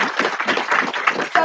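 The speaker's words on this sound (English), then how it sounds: "Let's give a big round of applause to Mr." Audience applause for a speaker at a startup pitch event, a short burst of dense clapping from a crowd, fairly close and steady, with a louder surge at the very end.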